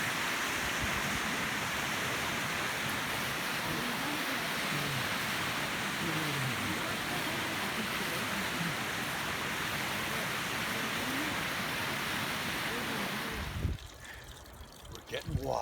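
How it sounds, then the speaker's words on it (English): A mountain stream in the Himalayan foothills rushes steadily, a dense, continuous watery hiss filling the scene before a sudden shift near the end. "The villagers washing their clothes up the stream. Beautiful stream."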